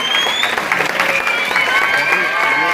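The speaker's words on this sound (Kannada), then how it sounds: "ಅವ್ರಿಗೆ ಜೋರ್ ಚಪ್ಪಾಳೆ ತಟ್ರಿ ಎಲ್ಲ ಅಂಗಡಿಯವ್ರು." A crowd at an addiction-free awareness gathering in a village claps for shopkeepers who have stopped selling gutka. The applause is steady and dense, with a voice speaking over it.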